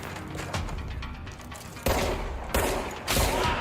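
Gunfire in the video game Control, a dense fusillade of rapid shots with heavy bursts starting partway through, loud and close over a rumbling game background.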